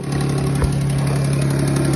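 Car engine with an exhaust leak running steadily at idle up close, a constant low rumble with a faint ticking texture and one brief bump, no talk.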